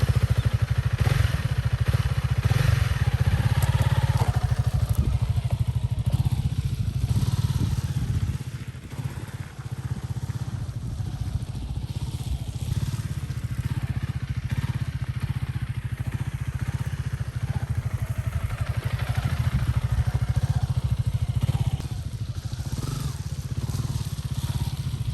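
A Honda CRF300L Rally motorcycle rides along with a steady, rumbling mid-pitched engine drone and wind buffeting, continuous and close, with a brief dip in engine sound partway through.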